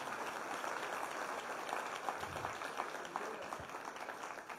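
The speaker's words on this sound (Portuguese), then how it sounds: "Pode aplaudir o Senhor." Sustained applause fills a church conference hall, a dense, even wash of many hands clapping at moderate distance throughout, with no pauses.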